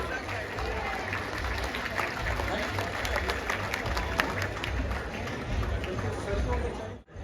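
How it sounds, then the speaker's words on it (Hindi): Audience applause welcoming a guest onstage at the Jashn-e-Rekhta 2022 literary festival, a continuous wash of clapping from a large crowd, fairly distant and even, cutting off abruptly near the end. "अरविंद मंडलोई जी, जोरदार तालियों से इस्तकबाल कीजिए।"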